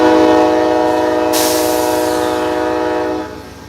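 The Amtrak California Zephyr sounds its warning whistle at the Ottumwa, Iowa station stop: one loud, sustained, rich horn blast held for about three seconds, then cut off abruptly.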